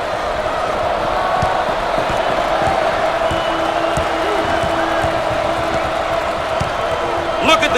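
A home basketball crowd in NCAA Basketball 10 roars steadily in the background, a dense continuous cheer beneath play-by-play commentary.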